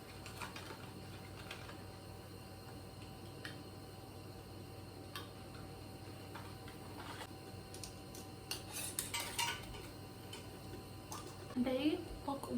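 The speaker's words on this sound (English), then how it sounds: "Throw some lids on top." Metal lids are set onto glass canning jars of chipotle peach barbecue sauce, giving several light clicks and clinks, mostly toward the end, over a steady low kitchen hum.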